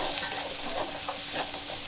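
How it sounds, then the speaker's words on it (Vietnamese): Seasoned ingredients with turmeric and five-spice being tossed and mixed in a pan, giving a dense, continuous sizzle with soft repeated stirring scrapes and no talk. "Rồi trộn đều ra."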